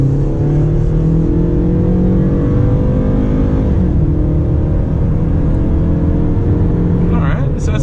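A 2019 Hyundai Santa Fe SUV accelerates from inside the cabin, its engine drone loud and continuous, climbing in pitch, easing briefly midway as if shifting, then building again.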